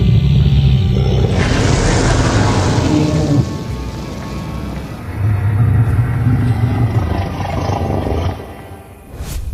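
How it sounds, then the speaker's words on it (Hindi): A cartoon cow ghost lets out long, loud, deep roars, two sustained bellowing bursts with a short dip between them and a fading tail, no voices. "ये किसकी गरजने की आवाज है?"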